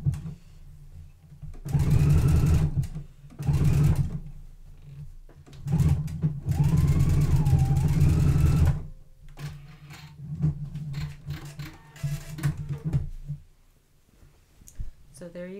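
A sewing machine stitches a cardigan jacket in several loud bursts of rapid stitching separated by pauses, with soft clicks and handling noises between runs.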